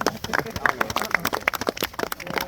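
Audience applause at a talk on farming, many hands clapping in a brief uneven burst that sounds fairly close, with talk mixed in.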